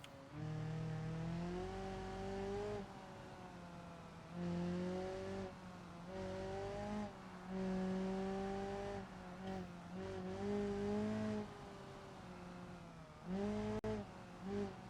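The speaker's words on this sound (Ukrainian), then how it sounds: "Бачите, який витривалий двигун москвича" A Moskvich car engine in the video game BeamNG.drive drones steadily with rising and falling pitch as it revs, running with no oil left, a continuous strained motor tone throughout with no talking.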